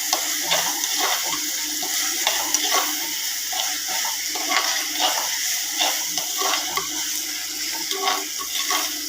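Onions for a Chettinad onion curry sauté in a pan with a continuous bright hiss, overlaid by repeated soft scraping stirs at a loose, uneven rhythm.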